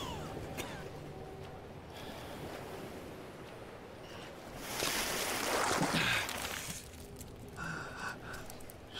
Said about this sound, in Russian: Все, самолет уходит под воду.